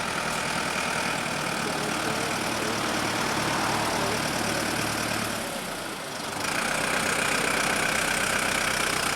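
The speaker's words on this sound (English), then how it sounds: "Here comes a tractor." A tractor engine chugs steadily at a mid pitch and dips briefly before rumbling on, fairly close, with no speech.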